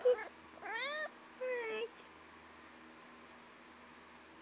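Domestic cat meowing indoors, a short sharp call followed by two drawn-out, rising and falling meows close to the microphone, with a person briefly speaking and a faint fan hum underneath.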